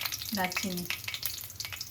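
Dry red chillies and whole garam masala sizzle in hot oil in a pan, a crackling burst with a brief voice-like tonal sound in the middle, close and fairly loud.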